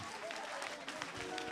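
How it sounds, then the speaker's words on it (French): Congregation cheering and applauding at a deliverance service, a dense continuous wash of clapping and voices at steady loudness throughout, with a voice riding over the crowd. "On acclame Jésus"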